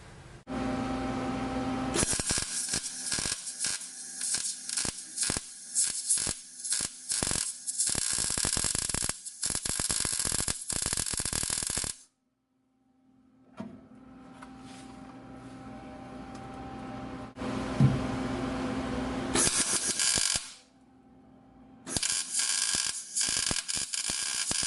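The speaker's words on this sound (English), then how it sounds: "So we'll fire this up and start welding." A MIG welder lays beads on a 1965 Chevrolet C10 with a power steering adapter, crackling and buzzing in long steady bursts broken by short gaps and a pause, close and moderately loud.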